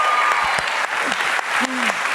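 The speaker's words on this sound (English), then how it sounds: "It's a big round of applause for Terry." A studio audience at a live podcast taping gives steady, dense applause throughout, with a voice briefly audible over the clapping.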